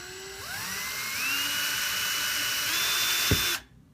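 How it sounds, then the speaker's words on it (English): A power drill bores through a metal Blade 180CFX helicopter skid, its high whine rising and then holding steady for about three seconds before cutting off abruptly, with a small knock just before it stops. "let the weight of the drill do the work"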